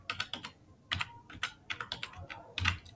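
Rapid clicking of keys on a computer keyboard while HTML is typed, with irregular bursts of close, crisp keystrokes and short pauses between words.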